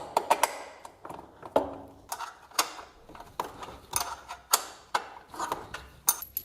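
A bolt is fitted through the front shock absorber of a Tyranno 72V XXL 2000W electric dirt bike during assembly, giving a series of crisp metallic clicks and ratchet-like ticks in an irregular rhythm, close and fairly loud.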